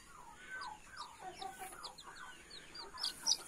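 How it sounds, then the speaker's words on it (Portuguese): Bantam chicks peep in thin, high chirps beside a hen that clucks softly, faint and close together in a quiet yard. "eu tô escutando esses bichinhos piando"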